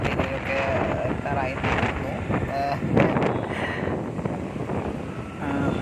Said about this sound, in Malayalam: ഞങ്ങളിതാ ബൈക്കിൽ ഇങ്ങനെ യാത്ര ഇങ്ങനെ പോവുകയാണ്